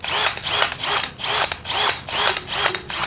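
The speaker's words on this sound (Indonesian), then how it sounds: "kalau bor bertorsi besar kayak gini guys bunyinya ceklok ceklok ceklok" A Milwaukee M12 cordless drill's clutch ratchets in rapid repeating clicks, loud and close, bursts pulsing in a steady rhythm about twice a second.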